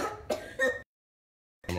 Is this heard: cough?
yes